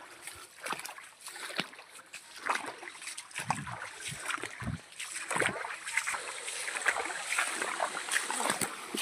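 A waterfall pours into a valley among the Palakonda hills near Kadapa, its steady rush and splashing carrying on throughout with scattered irregular splatters close by.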